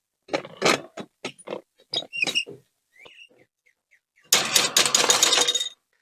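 A seat comes off a Gravely or Ariens zero turn mower once its nuts are removed, with a run of short squeaky clicks and chirps followed by a loud, dense scraping rattle close by.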